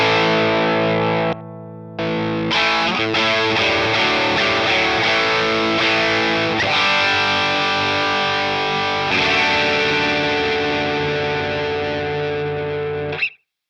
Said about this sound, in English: So more clipping, more distortion in the tone.